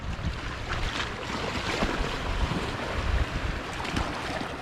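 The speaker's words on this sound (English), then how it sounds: "Nice soft surf today." Gentle surf washes onto Nang Rong Beach in Thailand on a calm day. The steady, soft rush of water runs without a break and no voices are heard.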